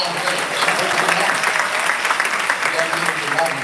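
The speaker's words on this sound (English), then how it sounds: "give a round of applause for that" A crowd applauds steadily at a live event, a dense continuous wash of clapping with voices mixed in underneath.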